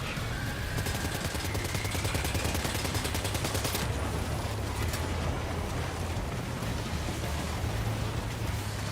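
Sustained gunfire in Death Stranding 2, rapid automatic bursts rattling steadily and loud over a constant low engine-like drone, with no pause across the whole stretch.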